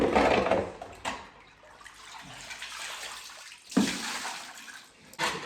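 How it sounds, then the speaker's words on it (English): Water splashes and drains unevenly as a leaking vehicle is emptied through a door, with bursts of pouring and gurgling between quieter trickling stretches, close and moderately loud. "Trying to start emptying some of this water."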